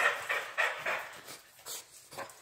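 Pet dogs at home give a series of short rhythmic panting huffs and soft whimpering yelps, fairly close and quiet, with no talk.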